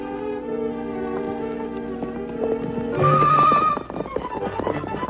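Horses in a 1947 Western film scene clop steadily on hooves and let out whinnying neighs, close and fairly loud, with sustained tonal sounds running underneath.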